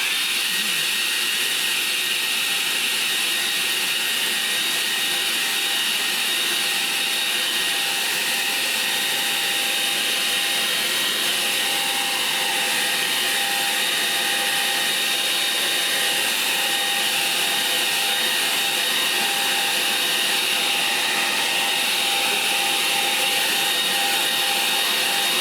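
A hair dryer blows steadily over a wet watercolour painting, a loud continuous whooshing whir with a constant motor whine that runs unbroken for the whole stretch, with no voices over it.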